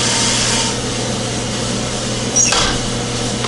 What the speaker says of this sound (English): We're gonna drop our beans.